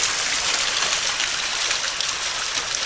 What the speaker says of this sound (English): we got another pleasant little waterfall